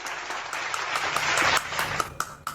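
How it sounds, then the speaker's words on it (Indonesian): A crowd at a religious talk gives a lively round of applause, a dense, loud burst of clapping lasting a couple of seconds. "tepuk tangan dulu yang meriah"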